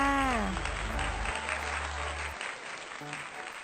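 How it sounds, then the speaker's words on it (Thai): Kindergarten children in a classroom clap for themselves in a soft, steady patter, with brief tonal voice sounds near the start. "ถูกต้องนะคะเด็กๆ ปรบมือให้ตัวเองหน่อยค่ะ"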